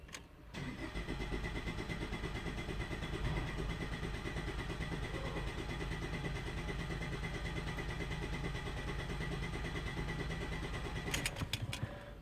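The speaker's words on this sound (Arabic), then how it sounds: "crank for 10 second." A car engine with a misfire in cylinder two cranks steadily for about ten seconds during a relative compression test with the throttle held wide open, a continuous, even rhythmic churning that stops abruptly near the end.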